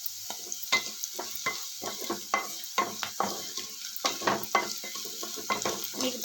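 Spices for semiya upma fry in hot oil in a pan while a utensil stirs them, with a soft sizzle beneath sharp, repeated scraping clinks at close range and no voices.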